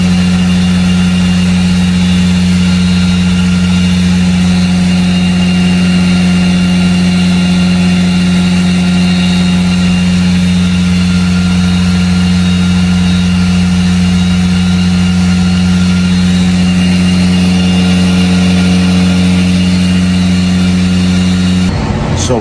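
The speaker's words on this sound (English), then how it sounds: "Try to rev it out" Big-turbo Mitsubishi Evo on a dyno, its engine droning loud and steady with a sustained high-rpm tone that holds for a long stretch and cuts off abruptly at the end.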